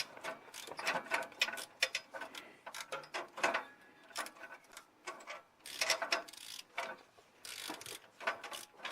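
A hand ratchet clicks in short, irregular bursts of quiet metallic ticking while the rear crank sensor is worked loose on a Chevrolet Malibu, heard close and alone.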